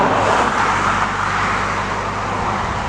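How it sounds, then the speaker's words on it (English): A car passes along a road at night as a steady broadband whoosh of tyre and engine noise, fairly close and fading slightly toward the end, with no voices. "Car's coming."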